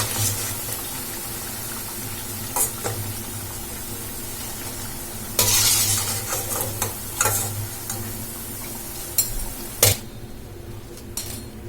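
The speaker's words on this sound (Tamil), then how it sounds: "எல்லா பக்கமே நல்லா வந்து எண்ணெயில ஃப்ரை ஆயிடுச்சு." Onion bonda fritters fry in hot oil, a continuous dense sizzle heard close up, with occasional scrapes and clinks of a utensil against the pan.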